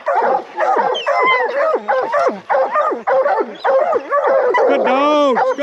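Bear hounds bay and bark nonstop at a bear treed in the woods during training season, a loud overlapping chorus of yips, howls and whines from several dogs close by.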